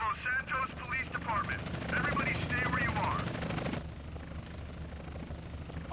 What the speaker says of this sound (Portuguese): olha os caras, polícia de helicóptero, ó